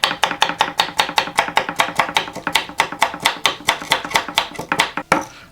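Kitchen knife from a Knafs Lander 1 chopping food on a cutting board, a fast, even run of crisp close knocks, roughly four per second, ending with one heavier chop.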